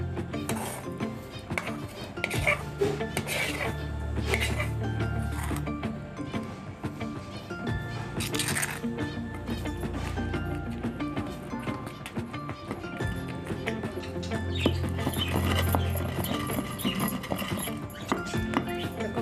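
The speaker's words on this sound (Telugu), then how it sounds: "వెల్లుల్లి వేసుకొని దంచుకుందాం" Garlic being pounded in a stone mortar for sorrel leaves (chukka kura) chutney, with repeated heavy, dull thuds at an uneven rhythm against a busy kitchen background, close by.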